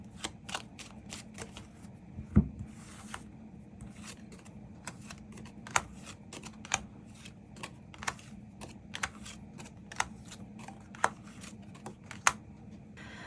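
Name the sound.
shuffling and drawing tarot cards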